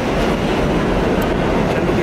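A train at a station in Barcelona fills the air with a steady, loud, unbroken rumble and rolling rail noise throughout, with no voices over it.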